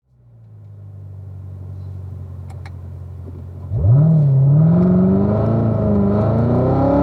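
A 2016 Corvette Z06 on a test drive idles with a deep, steady rumble, then its engine roars up hard at about three-quarter throttle, a loud, rising growl that holds strong to the end with no talk.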